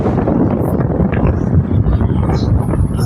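An electric fan runs fast and close on its number 3 speed setting, giving a loud, steady rushing whoosh of air with a low rumble throughout.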